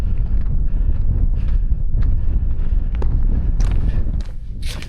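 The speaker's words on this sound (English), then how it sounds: "Oh, it's getting blustery." Blustery wind buffets the microphone on an open Lake District fell during a hill walk, a loud continuous low roar with gusty surges and no talk.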